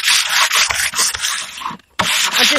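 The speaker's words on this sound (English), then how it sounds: "I just sanded it back a bit," Sandpaper rubs by hand over painted wood in close, loud, continuous back-and-forth strokes, stopping briefly near the end before resuming, with no one speaking.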